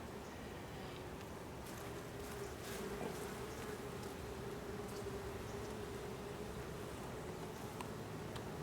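A steady, faint buzz of honey bees hovers around an open Layens hive dripping with nectar and honey, the drone continuous and even throughout with no voices.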